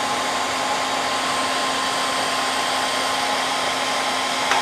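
A heat gun blows hot air onto a tank in a steady, loud, even whoosh with a faint constant whine, running without pause and with no talk.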